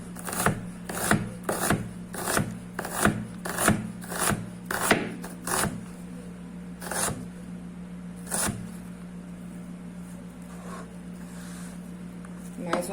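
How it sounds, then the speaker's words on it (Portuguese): A kitchen knife slices an onion into thin julienne strips on a cutting board, a brisk series of sharp, evenly spaced chops up close that slows to a few scattered cuts, with a voice talking throughout. "eu vou mostrar pra vocês um corte que a gente chama de julienne na cebola. Então, a gente vem cortando tiras finas."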